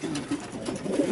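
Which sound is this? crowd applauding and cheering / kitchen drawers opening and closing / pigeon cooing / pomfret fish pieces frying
pigeon cooing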